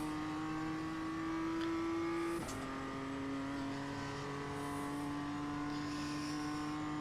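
A BMW M2 race car in the iRacing sim at Snetterton gives a steady, sustained engine drone, with one quick gear change partway through and the note then holding on, loud and continuous with no talk.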